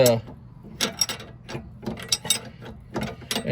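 A ratcheting wrench tightens the nut on a sway bar link of a 2009 Dodge Caravan, making close, crisp bursts of rapid clicking in short repeated strokes separated by brief pauses.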